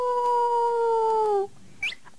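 A human voice imitates a coyote howl: a long, steady, tonal howl held for about a second and a half, then cut off, followed by a brief high yip.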